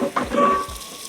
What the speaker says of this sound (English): I like to run me a little bit of water, soap and water, and just kind of, you know, shake it off and then rinse it